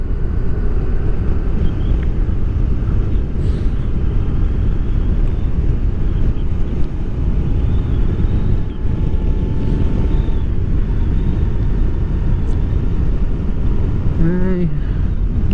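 Strong wind buffeting a microphone outdoors beside a motorcyclist with a Honda NC750XA, a loud, continuous low roar and rumble that lasts the whole stretch, with a brief rising whine near the end.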